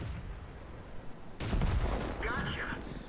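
A tank cannon in the World of Tanks video game fires once with a sharp, loud blast partway through, followed by a rumbling decay, with game voice and background noise around it.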